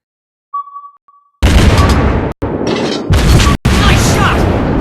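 Torpedo explosions in the naval combat game World of Warships: loud, heavy booming blasts in three close bursts, preceded by a brief faint tone.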